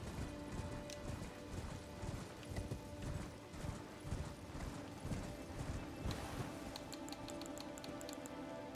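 A horse ridden in Elden Ring, steady rhythmic clip-clop of hooves at a trot, fairly quiet, with small mechanical game sounds and a faint bright jingle near the end, no talking.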